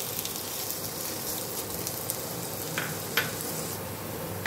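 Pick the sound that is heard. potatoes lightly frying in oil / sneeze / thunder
potatoes lightly frying in oil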